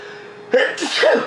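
A single loud, close sneeze with a short breathy build-up and a sharp burst.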